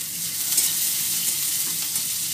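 Chopped onion and sliced green chili sizzle in hot oil left from frying eggs, a steady close hiss with occasional light stirring, no voices.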